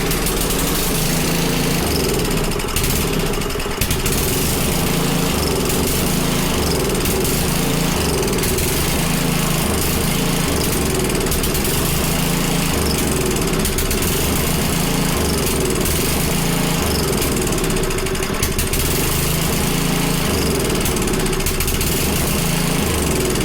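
Small single-cylinder engine on a front tine rototiller, newly replaced and running with a carburetor problem, drones steadily and loudly throughout with a rough, uneven low-pitched throb and no talking.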